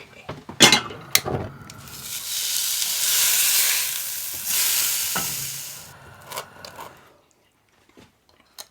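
Steak for a sandwich sizzles and hisses loudly in a hot pan aboard a narrowboat, a steady frying roar swelling for several seconds between sharp clattering knocks of utensils, then fading to quiet.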